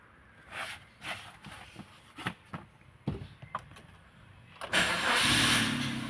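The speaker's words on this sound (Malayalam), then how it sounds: "ഇനി നമുക്ക് വണ്ടി ഒന്ന് സ്റ്റാർട്ട് ചെയ്ത് നോക്കാം" A Maruti Suzuki Ignis AMT is started after a few soft clicks and knocks, its engine catching near the end and settling into a loud, steady idle.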